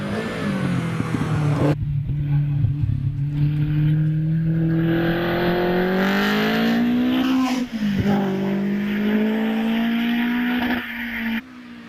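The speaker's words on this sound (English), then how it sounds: "Ray Law on the hill with the Caterham 7 Super Sprint" A Caterham 7 Super Sprint races up the Harewood hillclimb, its engine loud and near, climbing through the revs with a few gear changes before it drops away at the end.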